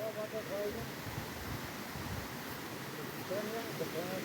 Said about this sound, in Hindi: काफ़ी सफ़र करने के बाद हम बिस्सा वाटरफॉल पे पहुंच चुके हैं।